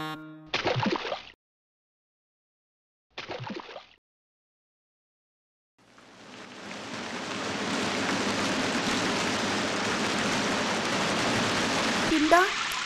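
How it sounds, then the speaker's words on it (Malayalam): Steady, loud rain pours down in an animated children's cartoon, a dense continuous hiss that rises in and holds for several seconds after two short stretches of talking. "ഈ മഴ ചോരുന്ന ലക്ഷണമില്ലല്ലോ"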